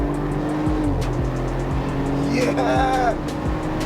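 A 2020 Audi RS4 Avant accelerates hard from inside the cabin, its engine note rising and falling through quick gear changes with a brief tyre squeal, loud and close while an occupant shouts over it.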